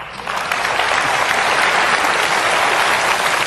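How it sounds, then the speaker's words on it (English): Audience applause at a life-purpose seminar builds quickly into steady, dense clapping that holds at full strength throughout, loud and close, with no voices over it. "Give them a clap, they've done well."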